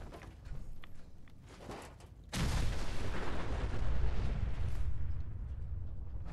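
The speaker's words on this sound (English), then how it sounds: "Everything's freaking exploding!" Mines detonating in the video game Fallout 4 set off a sudden loud blast partway through, followed by a long rumbling, crackling roar that stays heavy for several seconds with no voices.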